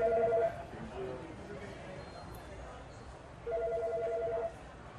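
A telephone rings in two electronic bursts, one at the start and another a few seconds later, each about a second long, amid an indoor office atmosphere with background chatter.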